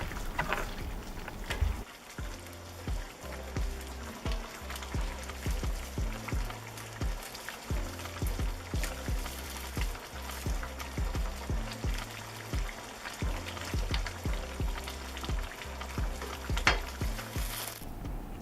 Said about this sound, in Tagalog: at hayaan lamang kumulo ng isa pang minuto.